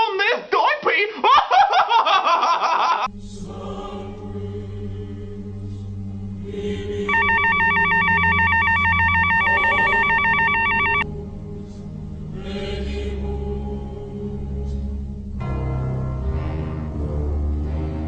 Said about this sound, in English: A text from Reese!